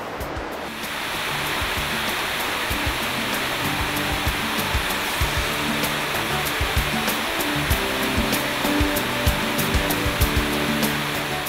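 A waterfall roars as a steady, loud wash of rushing water that fills the whole stretch without a break.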